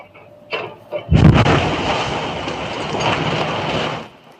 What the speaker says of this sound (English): A massive house explosion rocked a neighborhood near San Francisco, and the moment was captured on a doorbell camera